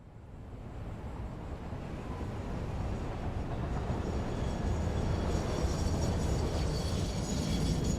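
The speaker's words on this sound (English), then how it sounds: "And here comes our other train right now, too." A train in the factory-building game Satisfactory arrives with a steady rumbling roar that builds from moderate to loud and holds, with no talk over it.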